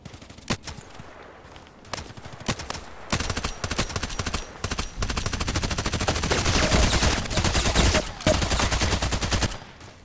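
Rapid bursts of automatic gunfire and single shots from the online shooter Contract Wars, sparse at first and then a loud, sustained barrage of overlapping fire with brief pauses.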